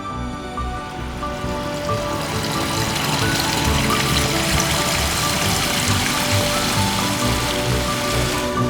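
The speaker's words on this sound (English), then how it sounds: "the water is flowing smoothly, but it's also doing exactly what we thought it was going to do, where it's hitting that rock, spiraling around" Water pours steadily over rocks in a pond waterfall, a continuous, even splashing rush with no breaks, fairly close and full.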